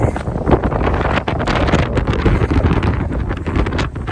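Strong outdoor wind buffets the microphone in loud, uneven gusts of rumbling roar, with no one speaking.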